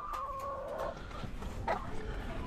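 Chickens cluck close by near their laying area, giving a few short, rising calls over a low background murmur of voices.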